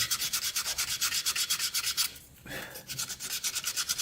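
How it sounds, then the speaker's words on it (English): Rhythmic hand sanding of wood with a cut piece of sanding belt, steady back-and-forth abrasive strokes with a brief pause midway before the scraping rhythm resumes, close and fairly loud. "I cut them up and I use them for hand sanding"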